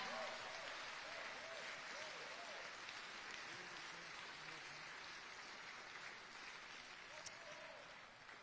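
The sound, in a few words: audience applause at a ceremony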